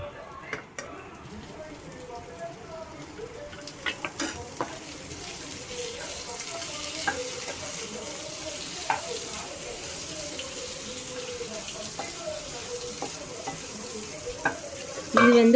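Onions and tomatoes sautéing in a pan for chutney give a steady close sizzle and stirring noise that runs the whole time, with occasional scraping and clinks.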